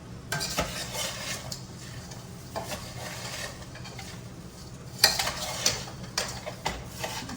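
Light scraping and stirring of poha into a tempering in a pan over a soft, steady sizzle on low heat, with a few sharper utensil clinks near the end.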